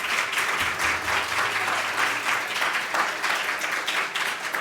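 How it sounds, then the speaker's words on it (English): An audience at a madrasah year-end program gives teachers a round of applause: steady, sustained clapping from many hands, even in level and unbroken from start to finish. "A loud round of applause for all our teachers."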